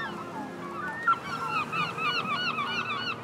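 Gulls calling from a breeding colony on the steep spring cliffs of Cap Fréhel, Atlantic coast: a run of repeated, overlapping squealing calls that builds after the first second, fairly near and loud over a steady wash of background noise.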